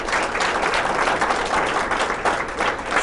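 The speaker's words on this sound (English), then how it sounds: "let's give Kiera a round of applause" Steady audience applause at a university presentation, dense and continuous at a fairly loud level throughout with no speech over it.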